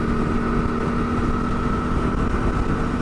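KTM 390 Duke motorcycle cruising at about 75 mph and 7,000 RPM, a steady, loud, continuous engine drone with strong wind rush and a constant tonal hum throughout, no talking.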